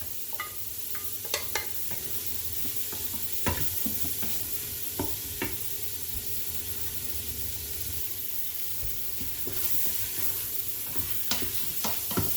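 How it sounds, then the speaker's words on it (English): Aromatics with turmeric and fresh ginger saute in a pan for spiced Indian urad beans, giving a steady soft sizzle broken by frequent clicks and scrapes of stirring, close and without speech. "And we just want to saute all of this until it is translucent."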